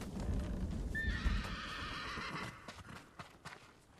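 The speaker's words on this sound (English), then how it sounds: "Oh, Mongolian horse." A Mongolian horse in the video game Ghost of Tsushima whinnies with a rising, wavering neigh over low rumbling hoofbeats, then the sound fades into scattered clip-clop steps.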